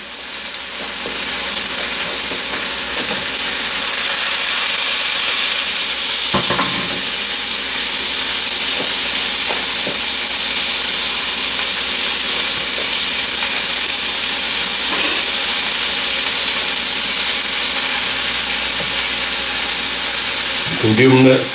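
Mushrooms searing in a pan for a mushroom Swiss burger, giving off a steady, loud sizzle and frying hiss throughout, with a few brief stirs and scrapes.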